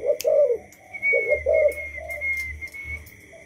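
A black Thai dove cooing in a steady series of short, close calls over a faint background whistle and soft low hum.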